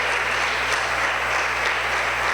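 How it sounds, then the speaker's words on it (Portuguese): Church congregation applauding, a dense continuous roar of clapping at steady volume with no speech over it. "Pode aplaudir, pode aplaudir."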